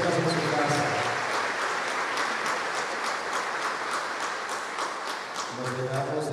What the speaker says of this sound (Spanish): Un aplauso para usted y siéntase en su casa